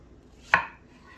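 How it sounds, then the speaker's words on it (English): A single sharp knife chop through fresh strawberries on a cutting board while making homemade jam, one crisp close thud standing alone against a quiet kitchen background. "I'm going to keep chopping these strawberries up"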